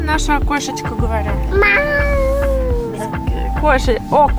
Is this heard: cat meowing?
yes